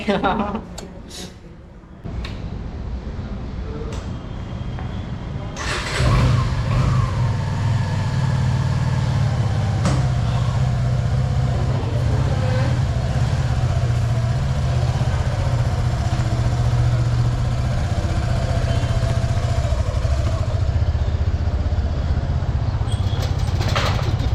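A newly bought motorcycle sets out onto the road, its engine idling and then settling into a steady low rumble that continues under a person talking.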